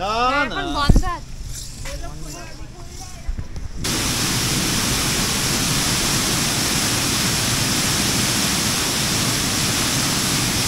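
A person speaks briefly, then water flows slowly out beside the Kangsabati dam at Mukutmanipur as a steady, even rushing wash that continues alone.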